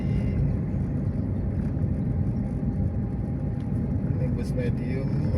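Low, constant road rumble of a medium bus travelling along the smooth Palembang–Lampung eastern highway near Menggala and Mesuji, heard from on board, with a voice talking faintly over it.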